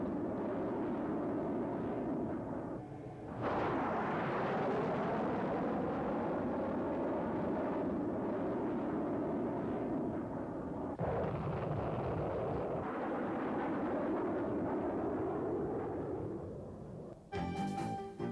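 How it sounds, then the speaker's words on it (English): A Patriot missile test firing in 1986 intercepting an Army Lance missile: a sustained, loud roaring rush of rocket exhaust and wind that swells and holds for many seconds, ending in a brief crackling burst. "as shown in this 1986 test firing against an Army Lance missile."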